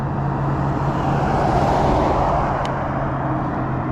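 Traffic rushes steadily past on a road with no sidewalk, a continuous loud roar of cars nearby with no gaps, heard from the roadside beside a cyclist.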